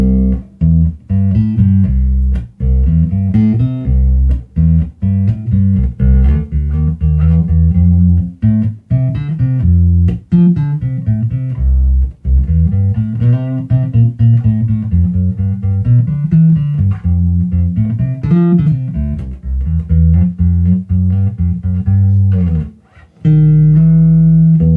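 A Hammersmith M4 bass guitar on its front pickup alone runs through a Mesa Boogie Subway amp, playing a continuous, warm, deep bass line of moving notes, loud and close with only brief pauses.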